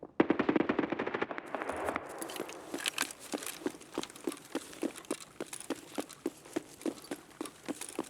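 Mounted heavy machine gun firing in the shooter game Escape from Tarkov during a snowy match: a rapid opening burst, then a steady train of evenly spaced, distant-sounding shots, moderately faint.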